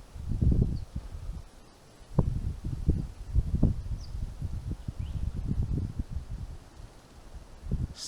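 Wind gusts buffet the microphone in low, rumbling bursts beside a lake during carp fishing, rising and falling irregularly with no speech.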